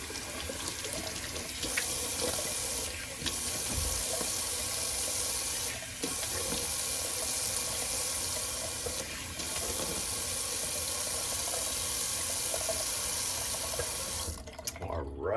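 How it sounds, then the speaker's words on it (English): Cold water runs steadily from a sink tap for a rinse, a continuous close splashing hiss that lasts almost the whole stretch with a few brief bumps, then cuts off near the end. "Little cold water rinse."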